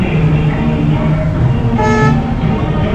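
A car horn toots repeatedly as an MLA's car pulls up at a martyrs' day gathering in Palghar town, close and loud over steady vehicle and crowd rumble.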